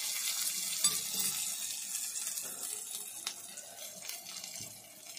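Chopped green chillies frying in a pan with browned garlic, a steady hissing sizzle that stays fairly loud throughout and eases slightly toward the end.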